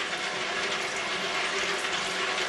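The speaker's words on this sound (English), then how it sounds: "go ahead and turn the machine on, pour some water in there" Water pours into a running Omega VRT330 juicer, a steady broad rushing and splashing hiss that stays even and fairly loud throughout, with no voices.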